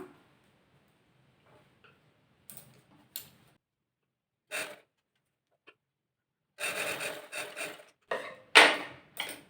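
A sewing machine stitches a chudithar pant in short, separate bursts of mechanical clatter. The bursts grow denser and louder toward the end, with near-silent pauses between them and no talk.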